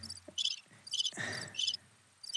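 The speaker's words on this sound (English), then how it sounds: "Give me the crickets." A cricket chirping sound effect plays in short repeated bursts, with a few soft thuds in between.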